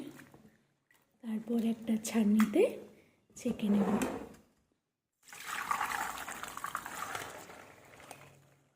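Shelled green peas are swished and rinsed in water by hand. Bursts of sloshing and rustling come close up, mixed with some talking, then a longer stretch of steady watery swirling.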